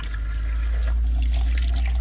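Water runs steadily from a van tap just after winterizing, a constant close rushing hiss with no talking.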